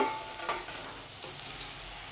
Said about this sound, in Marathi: तर आपल्याला हे आता कापलेले करटुले ह्यामध्ये घालून घ्यायचे